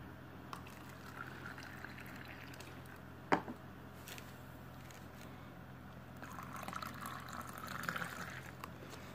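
Cold water poured into a glass of DXN cold coffee mix, a soft faint trickle with one sharp splash or clink early on and brief louder liquid sounds near the end.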